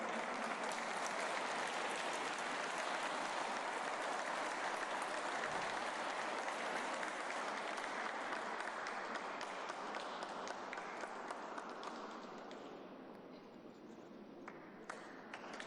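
Sustained audience applause at a ceremony honouring award-winning schoolteachers, dense and steady for about twelve seconds before thinning into scattered claps at the end.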